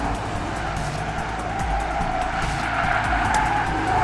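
A car fitted with Eibach springs is driven hard, its tyres skidding and squealing continuously under a steady engine roar, loud and close throughout.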